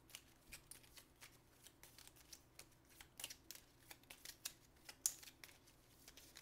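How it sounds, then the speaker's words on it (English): A deck of cards from the Solomon Kane board game is shuffled during a solo tabletop session: a steady series of quiet, close riffling and flicking card sounds with no talking. "Let's shuffle up our deck."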